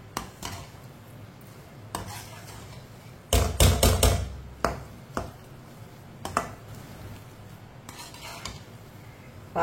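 Spoon scraping and clinking against a pan while semolina halwa sweetened with jaggery cooks, in irregular bursts of metallic stirring taps over a low steady background, with no one talking.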